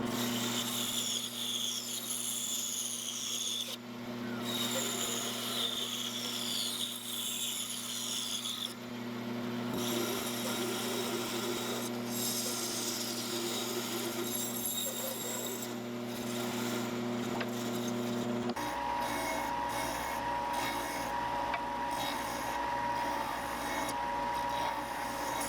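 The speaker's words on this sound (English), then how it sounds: "To the bandsaw." A bandsaw cuts a wood blank for a crankbait lure, a steady motor hum with a rasping, shifting cutting noise that runs on and off over about twenty-five seconds before the tone drops near the end, quiet and without talk.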